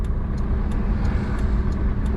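Car traffic rolls through a busy intersection in Toruń, a steady close engine and tyre rumble with no pauses, and no voices over it.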